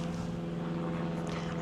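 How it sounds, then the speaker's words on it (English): Airplane passing overhead above an outdoor garden patio, a steady low droning hum that stays continuous and moderately distant throughout. "Sorry, there's a plane going over."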